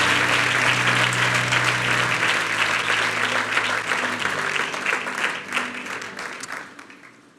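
A church congregation breaks into sustained, loud clapping during a French-language worship service, a dense roar of hands under a held musical tone that gradually thins and fades toward the end.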